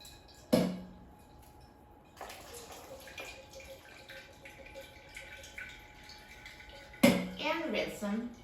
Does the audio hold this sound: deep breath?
no